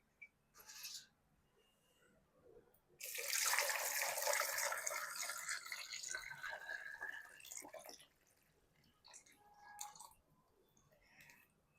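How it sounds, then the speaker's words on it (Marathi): Water poured into a vessel holding potatoes for washing, a steady splashing rush for several seconds, with softer trickles and clinks before and after. "तर त्यासाठी आता आपण ह्याच्यामध्ये अगोदर पाणी घालूया."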